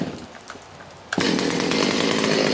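A Stihl 025 chainsaw, just rebuilt, fires up after a brief quiet pause and settles into a loud, steady running buzz with no one speaking.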